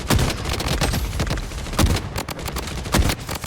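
Assault rifle fire in the shooter game Blood Strike: rapid bursts of close, loud shots in quick succession, with brief pauses between volleys.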